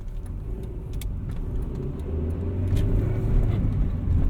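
A 1995 Acura Integra GSR with a manual transmission driven on the road, its engine a steady low rumble heard from inside that swells slightly as it accelerates, with no talking.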